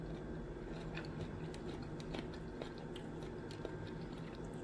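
Crunchy roasted Brussels sprouts being chewed close up, a steady crisp crunching that runs through the whole stretch with no talking.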